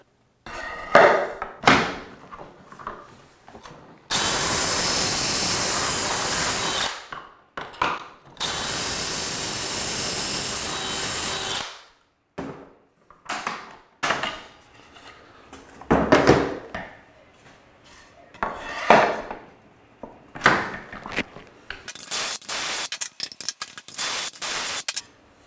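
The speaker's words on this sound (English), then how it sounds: "we're going to pocket hole the back of all these vertical styles right here" Power drill boring pocket holes into wooden vertical stiles for a wainscot unit, with long loud whirring bursts followed by shorter runs, clunks and handling knocks, close up and without talk.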